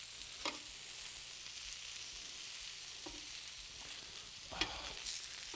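Pheasant wrapped in bacon frying in a pan, a faint, steady sizzle with a few soft clicks and crackles scattered across it, no speech.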